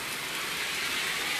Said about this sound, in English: It just started to rain, but it's a rainy, stormy day, you know.